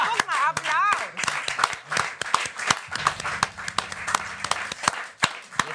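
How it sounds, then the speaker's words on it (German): Studio audience clapping in a German late-night talk show, a dense patter of hand claps with cheering voices and talk mixed in, fairly loud and close, lasting several seconds. "Guck mal, Applaus!"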